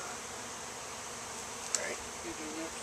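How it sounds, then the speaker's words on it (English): Bees buzz steadily around an outdoor hive, a continuous faint hum close by with one brief louder pass of a bee near the middle. "Scare the bees."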